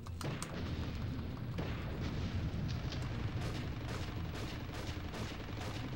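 Gunfire in the video game Army Men: Sarge's Heroes 2, a dense, continuous barrage of loud shots and booming blasts with rapid bursts cutting through a steady roar of battle, with no talking.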